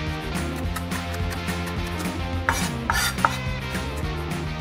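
Several sharp knife strokes finely chopping an onion against a board, irregular and close, over a steady humming kitchen background.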